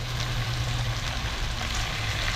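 Food fries in cooking oil that is not spattering. It makes a steady, close sizzling hiss with no pauses, over a low hum and without speech.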